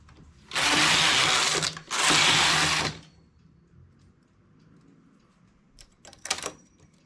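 A hand-operated knitting machine works a vest. Its carriage makes two loud, harsh sliding sweeps in quick succession, followed by a quiet stretch and a couple of brief clacks near the end.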